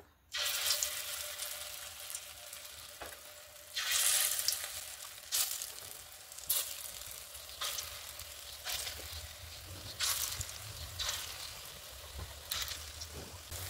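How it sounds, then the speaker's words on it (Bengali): Khesari dal fritters sizzle and crackle steadily in hot oil alongside papaya and potato, with repeated louder bursts of spattering as pieces are added or turned, close and continuous. "তেলটা গরম হয়ে গেছে, এখন বড়াগুলি ভেজে নেব"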